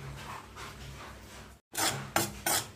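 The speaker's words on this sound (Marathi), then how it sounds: "छान तुपामध्ये भाजून घ्यायचा।" Semolina roasting in ghee in a pot for moong dal halva gives close, rasping stirring and scraping strokes. A soft steady scrape is followed by a brief silence, then louder, rhythmic scrapes against the pot, with no talk.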